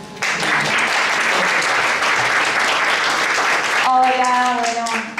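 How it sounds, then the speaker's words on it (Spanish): Audience applause fills a medical conference hall at a diabetes and diabetic foot seminar, a steady, dense clapping that holds for several seconds before thinning out, with a speaker's voice starting near the end. "Así que un fuerte aplauso."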